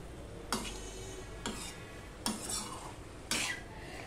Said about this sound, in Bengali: এবার ভালোভাবে মিশিয়ে নেব, খুব ভালো করেই মিশিয়ে নিতে হবে।